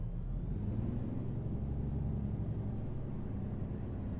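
Truck engine in American Truck Simulator during a winter event, a steady low droning rumble with a smooth whir, held at an even, moderate level throughout with no voices.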